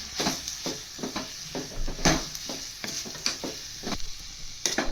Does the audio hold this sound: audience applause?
no